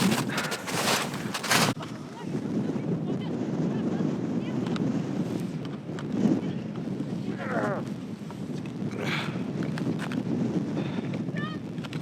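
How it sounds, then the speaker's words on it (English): Strong wind on a winter seashore at -10°C buffets the microphone with a constant low roar, gusting in places, with faint bird-like chirps and bits of background noise. "I don't know if you can hear my voice well because it's very windy"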